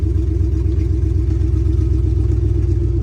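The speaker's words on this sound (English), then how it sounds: "starting my car now with no exhaust" A BMW E90 M3 V8 running on open headers with no exhaust fitted, a loud, steady, deep rumble with a strong low throb that holds evenly throughout, close by and with no voices over it.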